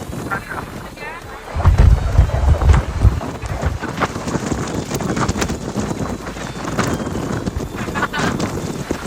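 Strong wind buffets the microphone at the seaside at Kanyakumari near the ocean skywalk, a loud broadband rush that swells after the first two seconds and keeps blowing steadily throughout.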